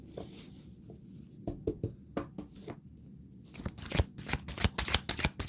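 A deck of tarot cards is shuffled by hand in quick, crisp bursts of riffling and flicking, close and fairly quiet, growing busier toward the end.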